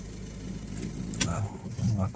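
A Peugeot 3008 engine idles with a steady low rumble close by, while a voice talks faintly over it and small clicks and rattles come from around the car.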